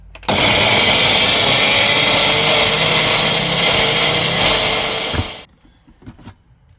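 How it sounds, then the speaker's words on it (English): A blender whirs loudly and steadily for about five seconds blending plant-based ice cream, then cuts off abruptly, leaving a few faint knocks. "So chuck it in your blender, whatever you've got"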